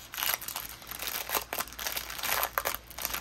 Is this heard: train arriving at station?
no